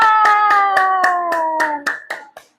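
Children in a classroom clap rhythmically for the best group, about ten close, evenly spaced beats mixed with chanted young voices, slowing and breaking apart into a few final claps before falling silent.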